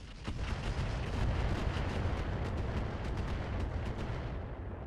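RogueTech BattleTech mech weapons firing in rapid succession: a volley of heavy booming blasts and sharp cracks that overlap into a rumbling barrage, fairly distant and muffled.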